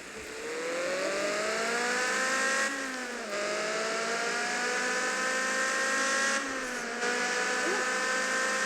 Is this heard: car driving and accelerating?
yes